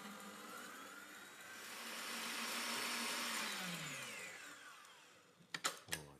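An electric mixer beats meringue for a pavlova as icing sugar goes in, a loud steady whirring drone that swells in pitch and strength, then eases off and stops, followed by a few sharp clatters at the end.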